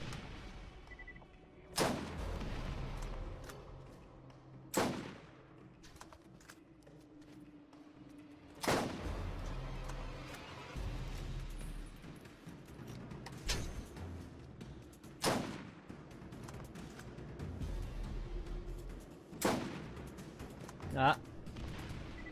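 Enemy turret in Borderlands GOTY Enhanced firing in spaced heavy blasts, about eight sharp booming hits scattered irregularly over twenty seconds amid quieter game ambience, with someone speaking French in between.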